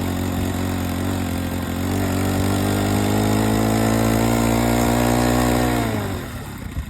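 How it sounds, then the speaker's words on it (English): A small gas engine on an AWD hybrid bicycle runs steadily while climbing a hill, a loud, even droning hum that holds for several seconds, then cuts off abruptly near the end. "Going up this hill, I just kind of wait till the gas engine engages"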